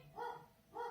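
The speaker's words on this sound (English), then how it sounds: "Oh, that's the dog barking." A household dog barks twice indoors, two short, fairly faint woofs spaced about half a second apart, with no talking over them.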